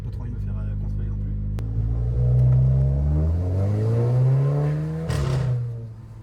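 An Audi A3 8V accelerating heard from inside, a deep engine rumble whose pitch climbs steadily, drops with a gear change, then climbs again, loud and close, with someone talking over it.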